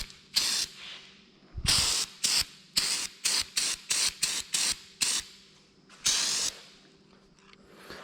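A spray gun lays Wheatland tin paint onto a 1950 Oliver tractor in a series of short hissing bursts, a dozen or so quick blasts of varying length separated by brief pauses, close and fairly loud.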